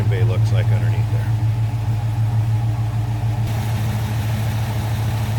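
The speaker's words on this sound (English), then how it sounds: "See how smooth that engine is running. Nice it sounds." Idling V8 engine of a 1967 Chevrolet C10 pickup, a steady low rumble that holds even throughout, heard close with the hood up and someone talking over it at the start.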